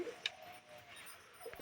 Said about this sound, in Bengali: এই যে আমার সব পায়রা